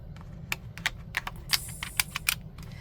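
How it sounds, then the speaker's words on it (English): Quick, irregular typewriter key clacks tap out in bursts, a crisp mechanical typing rhythm close by over a faint low hum. "And then I want to use the typewriter."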